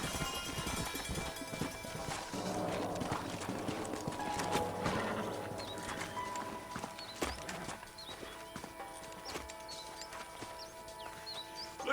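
Horses' hooves clip-clop steadily through a Red Dead Redemption game scene near an old house, with ambient game sounds and faint background music around them throughout.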